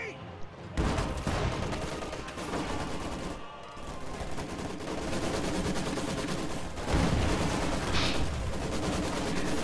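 Heavy machine gun fire rattles in a Company of Heroes battle. Dense, sustained bursts and other combat noise fill nearly the whole stretch after a brief quieter opening.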